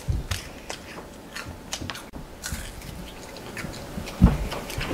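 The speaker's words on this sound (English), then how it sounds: "Let me take a bite." Close-up crunchy bites and chewing on a creamy, crunchy candy bar, a series of small crackles and soft mouth sounds, quiet overall with one louder crunch near the end.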